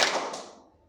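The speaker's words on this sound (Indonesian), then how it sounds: "Tepuk 1, tepuk 2, tepuk 3" A single sharp hand clap rings out in a classroom counting game, its bright burst fading quickly into a short decay with no talk over it.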